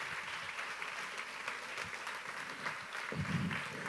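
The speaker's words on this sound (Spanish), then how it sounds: "Alguien debe aplaudir fuerte a Dios" A church congregation claps loudly for God during a Spanish-language sermon, a steady mass of clapping that carries through the whole stretch with no one speaking over it.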